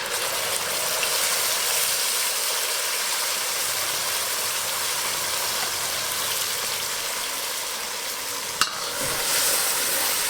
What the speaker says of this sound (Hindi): अब डाल देते हैं ये टमाटर का पेस्ट।